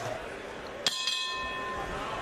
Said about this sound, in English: The bell in round number two.